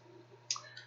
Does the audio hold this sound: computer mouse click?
yes